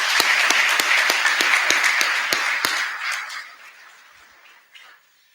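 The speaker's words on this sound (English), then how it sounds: "One more time, if you would, join me in a round of applause." Audience applause at a graduation ceremony, several sharp claps standing out at first, then the clapping tapering off and fading to near silence with a last stray clap near the end.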